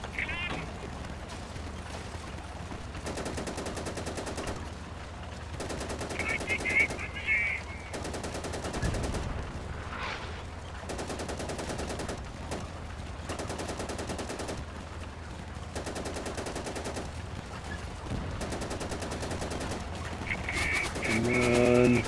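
Rapid machine-gun bursts fired on the move in the Easy Red 2 video game, set in France in 1940, repeat in loud, dense volleys separated by brief gaps over a constant rumbling engine-like background.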